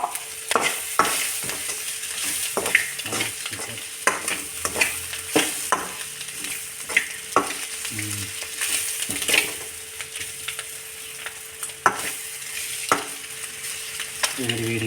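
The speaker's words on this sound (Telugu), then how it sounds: "సో ఇప్పుడు మంచిగా బాయిల్డ్ ఎగ్స్ చక్కగా ఫ్రై అవుతున్నాయి అన్నమాట." Boiled eggs for egg chips fry in a hot pan, a steady sizzle broken by repeated scraping stirs and clinks of a spoon against the pan, close and fairly loud with no talking.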